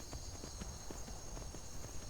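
Horse hooves in the video game Skyrim, a steady rhythmic clip-clop of a walking horse at moderate distance over a constant wind-like ambient hiss.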